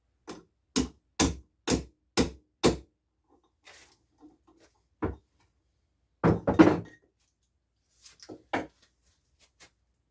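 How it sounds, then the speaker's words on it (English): Six sharp hammer taps in a quick even row as a differential seal on a Yamaha Virago XV750/1000 is driven into place, then scattered softer knocks and thuds with pauses between, close and fairly loud. "slide it down on with and tap it with a hammer."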